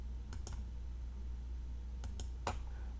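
Computer mouse clicks while working in Fusion 360 CAD software: two pairs of quick, faint clicks, one early and one near the end, over a low steady hum, with no talking.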